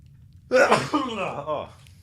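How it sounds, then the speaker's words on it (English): A single loud, close sneeze bursts out in a quiet room, a sharp explosive onset followed by a trailing voiced exhale with a smaller second burst. "Sneeze coming."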